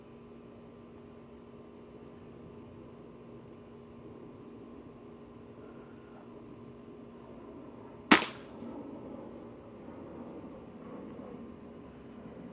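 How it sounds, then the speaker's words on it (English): An Air Venturi Avenge X Classic airgun fires a single sharp, loud crack at about 22 yards, standing out clearly against quiet background hum and trailing off in a short decay. "Let's go ahead and take the first shot."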